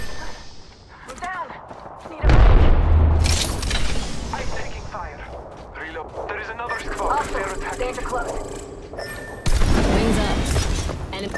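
Incoming gunfire in a Halo-style shooter video game, with sharp cracks and heavy booms over a constant noisy game soundscape, several loud bursts arriving in clusters, and voices talking throughout.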